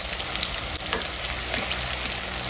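Onions crackle and sizzle steadily in hot oil, a dense close-up hiss with a few sharper pops and light stirring, no voices.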